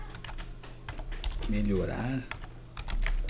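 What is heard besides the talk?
typing an AI prompt on a computer keyboard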